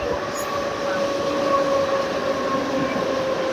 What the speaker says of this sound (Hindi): ये हमारी लोकल ट्रेन है मुंबई की।